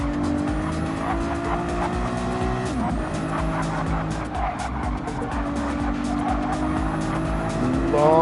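Race cars slide through a corner on the Barcelona circuit late in an endurance race, engines roaring steadily with tire squeal and skidding layered over the continuous loud motor drone.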